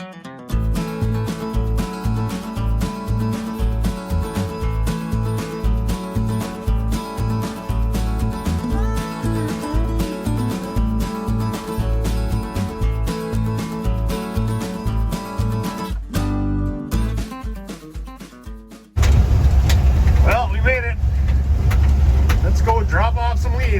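A 1954 Chevy truck, fresh from a rear main seal install, drives on a road: a steady, throbbing engine drone with shifting pulses, then a louder rush of road and wind noise in the final seconds.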